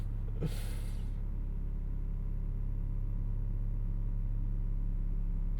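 Rough idle from a 2025 Audi SQ5 turbo V6 SUV at night, a steady low rumble and drone that shakes the door panels, heard from inside the cabin with a brief hiss near the start.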